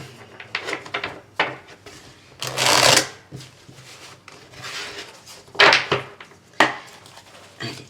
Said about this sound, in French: J'arrive plus à mélanger les cartes.